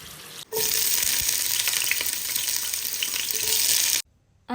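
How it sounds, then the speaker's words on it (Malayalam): Pieces of fish for fish biryani fry in a pan with a loud, dense, even sizzle that starts abruptly, carries on steadily for several seconds and then cuts off. "അങ്ങനെ ഫിഷ് ബിരിയാണിക്കുള്ള ഫിഷൊക്കെ ഞാൻ വറക്കാൻ വേണ്ടി വെച്ചിട്ടുണ്ട്"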